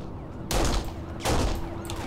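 Gunfire in the video game Kane & Lynch, with two loud broadband bursts of shooting about three quarters of a second apart, each cracking out over a steady game background hum.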